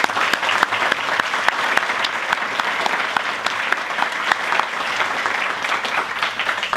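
Audience at an energy excellence awards ceremony applauds the finalists, a steady, full round of clapping from a sizable crowd that continues evenly for several seconds.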